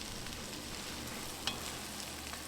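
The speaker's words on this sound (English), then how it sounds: "Let's drop in our pot and cook them down." Serrano and sweet peppers cook down in a pot for chili, giving a steady, soft sizzle with faint bubbling and one brief tap partway through, with no voices.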